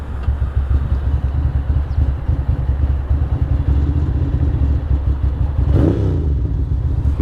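A Ducati Monster 620 motorcycle rides along on a street cruise, its engine giving a steady, loud low rumble close by, with a brief surge of engine noise near the end and no talk.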